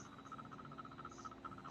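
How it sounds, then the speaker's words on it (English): Crickets chirp outdoors in a fast, steady pulsing trill, faint and continuous throughout. "I hear crickets outside."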